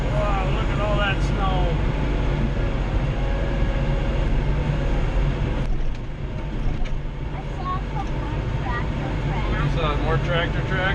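A Kubota L3940 HSTC compact tractor clearing snow runs with a steady, close engine drone and mechanical rumble throughout, while voices chatter and call out over it.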